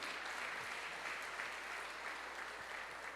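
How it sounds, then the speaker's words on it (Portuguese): A church congregation applauds together for Jesus during a worship service, a dense, steady wash of clapping that holds at an even level for the whole stretch with no voices on top. "Então uma forte salva de palmas para Jesus"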